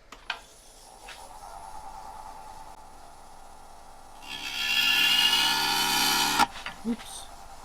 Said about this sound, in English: we'll hit it with the gouge and see what it does